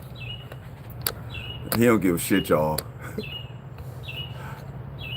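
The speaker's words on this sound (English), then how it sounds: "Listen to the bird singing, y'all." A songbird sings outdoors in repeated short, high chirps at a steady pace, while someone talks loudly and casually partway through.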